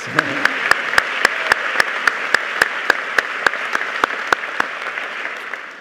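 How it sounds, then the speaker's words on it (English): Applause at an MBA end-of-course ceremony comes as steady, evenly spaced sharp claps, about four per second, over a soft background murmur throughout. "but we should still applaud"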